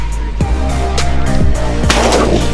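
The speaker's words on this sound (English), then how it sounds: "Nice shot, Jerry." Shotguns fire during an outdoor dove hunt, with about four sharp, loud reports spaced roughly half a second apart over a steady low hum.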